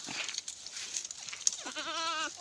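A large billy goat bleats close by, a wavering nasal cry near the end, with some faint background noise before it.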